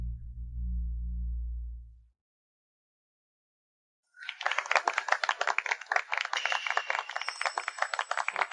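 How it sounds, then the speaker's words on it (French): Applause greets a bride entering a wedding banquet: after a low hum and a gap of silence, a dense, steady burst of clapping from many hands fills the second half and holds at an even level. "accueillons maintenant, sous un tonnerre d'applaudissements, la plus belle des mariées, Mademoiselle Zhang Nianchu."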